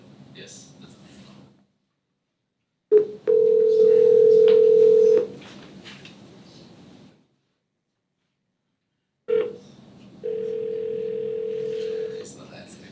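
A phone call rings out unanswered: two long, steady ringback tones separated by silence, heard over a speakerphone line with quiet background voices in between.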